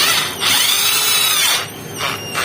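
A cordless drill whines at high speed in two bursts, with a short pause between them and a brief rev at the end.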